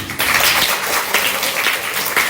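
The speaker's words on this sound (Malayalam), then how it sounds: "ആദ്യത്തെ കൈയടി കൊടുക്കേണ്ടത് അവൾക്കാണ്" Audience applause at a school assembly for a girl, a dense, steady wash of many hands clapping together, fairly loud and sustained throughout with no voices on top.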